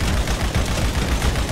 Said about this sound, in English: Shoot the guy.